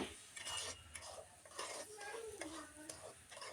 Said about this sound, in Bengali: এরপর আমি চালগুলোকে ভালোভাবে ভেজে নিচ্ছি